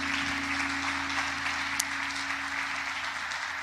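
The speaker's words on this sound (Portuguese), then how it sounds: "Você pode aplaudir a palavra de Deus?" Church congregation applauding steadily during a celebration worship service, a dense continuous wash of clapping with a low steady hum underneath, no pauses across the stretch.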